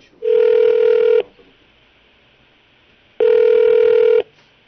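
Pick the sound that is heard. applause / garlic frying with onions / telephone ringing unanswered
telephone ringing unanswered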